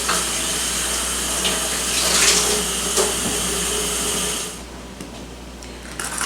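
Tap water runs steadily into a kitchen sink while a hollowed pepper is rinsed, a loud constant splashing stream that cuts off near the end, leaving quieter handling noise.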